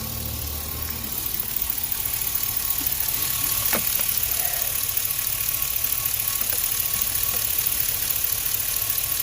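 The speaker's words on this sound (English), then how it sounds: "I normally hear a little change in the idle." A Chevrolet Silverado engine idles steadily nearby under an open hood, a rapid, even mechanical ticking and rumble with a faint metallic clink or two, and no voices.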